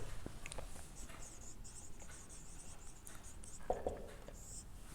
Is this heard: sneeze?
no